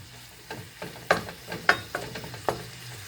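Shrimp and tuna steak frying in a pan, a steady sizzle broken by a few sharp pops and stirring clatters, close and moderately loud with no talk.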